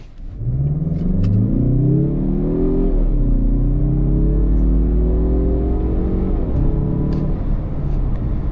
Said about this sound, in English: let's do a little bit of 0 to 60 while it's safe to do so. I'm gonna put it in sport.